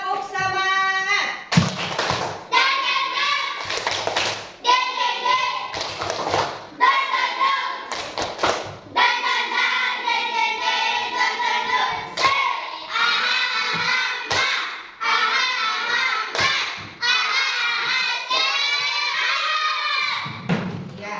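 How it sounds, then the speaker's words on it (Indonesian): A school class does the rhythmic tepuk semangat clap chant, children's voices chanting in unison and punctuated by sharp group claps and thumps in a repeating pattern, loud and close throughout. "Coba tepuk semangat."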